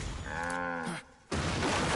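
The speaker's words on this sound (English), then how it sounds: "Why do they sound like cows?" Robot enemies in Metal Gear Solid 4 let out a loud, close, cow-like moo lasting under a second, then a short pause and a burst of harsh noise.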